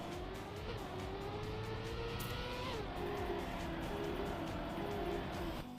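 A race car drifting in the Trackmania video game, its engine droning steadily with pitch shifts as it slides through a turn, tires hissing beneath, loud and continuous with no talking.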